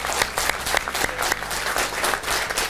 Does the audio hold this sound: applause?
yes